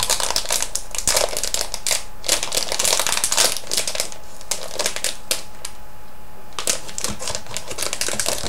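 A Candysan candy discovery pack is torn open, its plastic wrapper crinkling and crackling loudly and close up in busy bursts for several seconds, with a brief quieter pause near the end.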